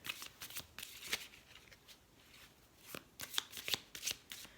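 Tarot cards from a moon deck are shuffled close up and quietly, with bursts of riffling and snapping separated by short pauses, no voices.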